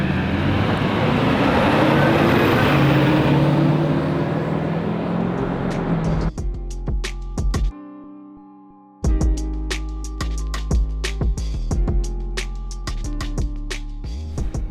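A 2006 Hummer H1 Alpha on the move, with loud, steady engine and road rumble for about six seconds, after which the drive noise cuts out and quieter steady tones take over, broken by a short silent gap.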